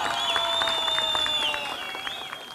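An outdoor picnic audience of an Amasya hometown association clapping as a guest is welcomed to the stage, a steady patter of applause mixed with faint tonal sounds in the background.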